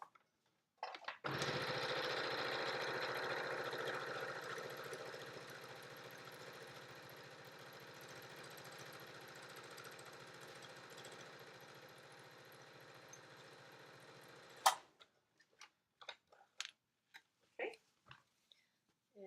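A sewing machine stitches a make-up bag in one steady, continuous run of about fourteen seconds, close and even, followed by a few scattered clicks and handling noises.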